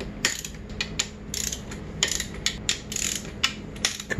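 Ratchet wrench snugging the clutch cover bolts on a 2006 Honda CRF250R, a rapid series of close, crisp metallic clicks repeating in short bursts, with no talking.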